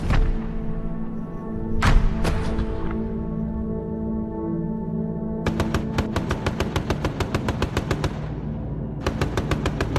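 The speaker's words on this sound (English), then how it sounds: "everybody would test their gun" Bomber crewmen test-fire machine guns in flight, with a few heavy thumps followed by rapid, loud bursts of gunfire in quick repeated volleys over a constant deep aircraft engine drone.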